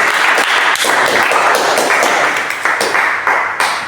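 Loud, dense applause from a church congregation fills the whole stretch as a steady wash of many hands clapping, with slight surges and dips and no talking over it.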